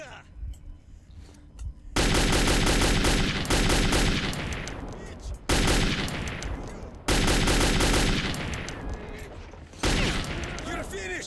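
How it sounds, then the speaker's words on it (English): Bursts of automatic gunfire strike a wall in the Metro 2033 video game, loud and sustained in several long volleys with brief gaps, with a voice talking over the shooting. "Someone is shooting the wall."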